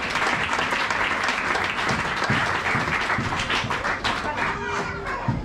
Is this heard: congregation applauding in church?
yes